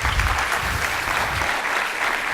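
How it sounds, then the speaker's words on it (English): Conference audience applause fills a hall as a continuous, loud wash of many hands clapping, with a low rumble underneath that eases partway through. "Please give a big round of applause for Mr."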